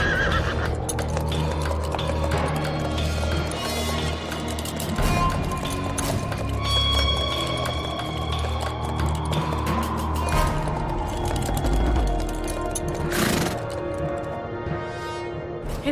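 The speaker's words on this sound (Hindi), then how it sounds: "हे देवा, ये तो महारानी सरकार का घोड़ा है" A horse neighs loudly amid steady galloping hoofbeats and a busy dramatic background, the whinny rising and falling over continuous clip-clop in a period Hindi drama about the Rani of Jhansi.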